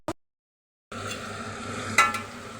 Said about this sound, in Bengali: বাঁধাকপিটা কষানো হচ্ছে